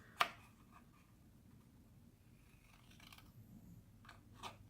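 Scissors cut white paper along a score line with a sharp snip at the start, then soft, faint snipping and rustling, with no talking.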